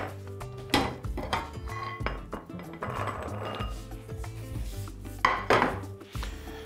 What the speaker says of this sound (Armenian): Ավոկադոն կտրատելուց հետո